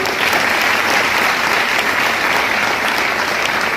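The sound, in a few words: audience applause for the upline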